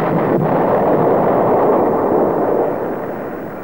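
Bombs dropped at low level from F-4 Phantom aircraft explode in a continuous, heavy rumbling roar, loud and sustained throughout before easing slightly toward the end, with no voices.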